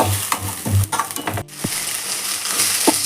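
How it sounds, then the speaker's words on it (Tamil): Ginger garlic paste frying in a pan for a country chicken curry, sizzling steadily while a spoon stirs and scrapes in irregular strokes, close and fairly loud. "இஞ்சி பூண்டு பேஸ்ட் நல்லா ரோஸ்ட் ஆயிடுச்சு"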